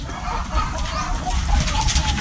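Layer hens clucking and murmuring nearby in a cage-free system, a steady busy flock chatter with soft overlapping calls throughout.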